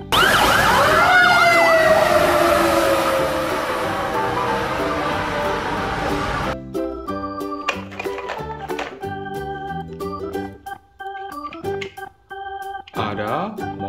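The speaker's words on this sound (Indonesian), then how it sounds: "Ada pemadam kebakaran." A toy fire truck sounds a loud wailing siren for about six seconds, then stops, and choppy toy clatter and short electronic tones follow.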